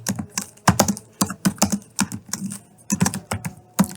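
Student names are typed on a computer keyboard in quick, irregular bursts of close, crisp keystrokes separated by short pauses.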